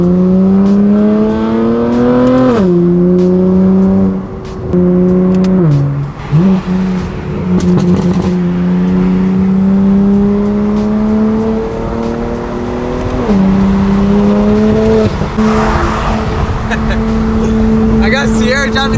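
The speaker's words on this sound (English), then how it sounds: "I got Sierra driving the Supra right now." A Toyota Supra drives along with a loud, steady engine drone close up, the pitch climbing and dropping in steps as it shifts through gears.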